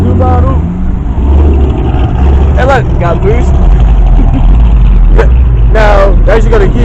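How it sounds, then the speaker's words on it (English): A Subaru drives past at a cars and coffee meet, its loud engine rumbling close by as it builds turbo boost, while people talk and shout over it nearby. "Here's a Subaru. Hey, look, got boost."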